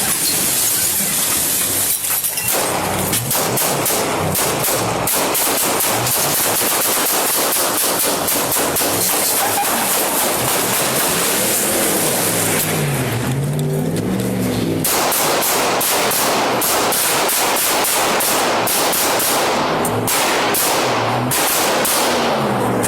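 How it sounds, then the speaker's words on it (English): Police gunfire rings out during a confrontation with a suspect who drove into a mall, a chaotic burst of many loud sharp shots with echoes, distorted and continuous over shouting and commotion. "Shots fired! Shots fired!"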